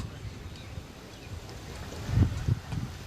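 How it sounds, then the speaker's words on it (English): Wind gusts buffet the microphones at an outdoor high school baseball field, making low, uneven rumbling thumps that swell and fade over faint background ambience, with a stronger burst near the end. "As you can probably hear through the mics, the wind is blowing pretty good here at Bethel today."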